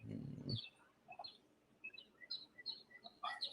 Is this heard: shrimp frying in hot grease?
no